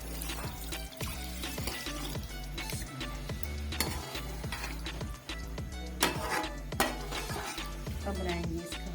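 Fish curry is stirred slowly in a pot while it cooks, with soft scraping strokes in a steady rhythm over a gentle simmering sizzle, close and fairly quiet, with no talking.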